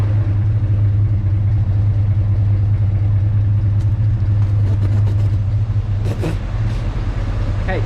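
A 1946 Chevy pickup with a 383 engine runs steadily at idle with a loud, continuous low exhaust rumble. Light clicks and rustles occur near the end.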